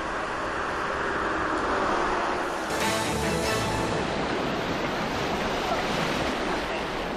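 Ocean surf churns in a continuous broadband rush at a dog surfing competition, with wind buffeting the microphone and a brighter crash of breaking water midway.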